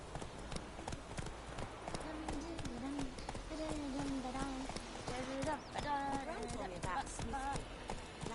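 Roach the horse gallops in The Witcher III, a steady stream of rhythmic hoof clip-clops running the whole time beneath game voices and music.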